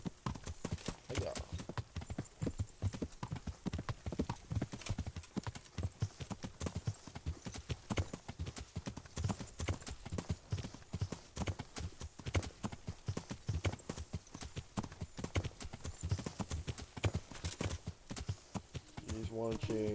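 Horse hooves clip-clopping at a steady walking rhythm in the medieval video game Kingdom Come: Deliverance, with continuous even hoofbeats under a player's casual talk over the game audio.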